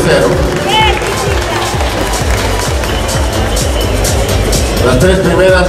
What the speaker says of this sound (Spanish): Fuerte el aplauso para las atletas que quedan primero,